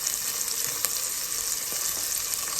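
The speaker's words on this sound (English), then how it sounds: "while that's simmering happily" Moroccan chicken with olives and lemon simmering in a pan gives a steady, soft sizzle and bubbling hiss throughout, with a few faint clicks and no voices.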